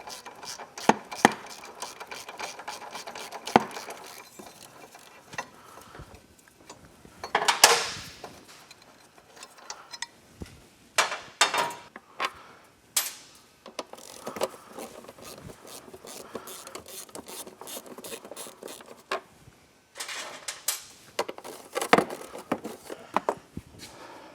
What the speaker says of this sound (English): So let's start pulling some bolts.